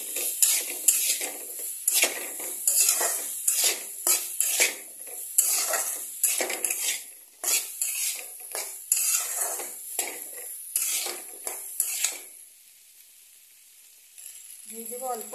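Spices and turmeric stirred in a cooking pan, a busy run of scraping, clinking spoon strokes against the metal with a light sizzle, loud and close, then fading to near quiet near the end.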